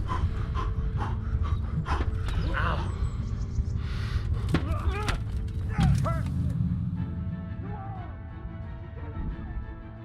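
A dog pants rapidly and steadily throughout a video game fight, the quick breaths mixed with combat effects, thuds and brief in-game voices, fading somewhat toward the end.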